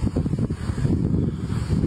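Strong wind blows steadily across the microphone at a wildfire scene near homes in Lezhë, a continuous low rumbling roar with gusty buffeting and no voices.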